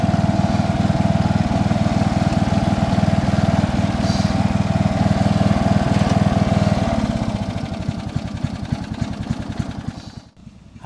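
A machine engine runs steadily at moderate throttle, loud and close with an even rumbling pulse, then its note drops and slows toward idle near the end.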